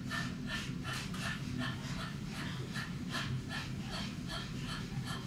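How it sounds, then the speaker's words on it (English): Rapid, rhythmic panting breaths from a person practising breath of fire during a kundalini breathing exercise. The short, even puffs repeat steadily and close-up, with no talking. "just relax your belly and pant"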